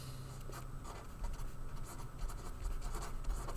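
Hand-writing a vector on a board or paper as part of a linear algebra lesson, a steady scratchy stroke sound running close and continuously, with brief pauses and louder strokes between pen movements.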